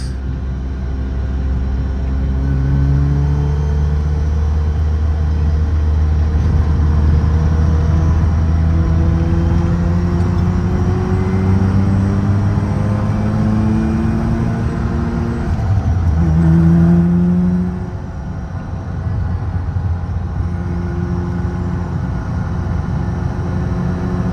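Mazda RX-7 FC, freshly fitted with PBM super angle knuckles, driving along with its rotary engine humming steadily and rising through a few revs and gear changes, heard close from inside with no talking.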